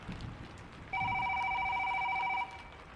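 Telephone ringing with a single steady electronic trill lasting about a second and a half, fairly clear above quiet rainy night ambience.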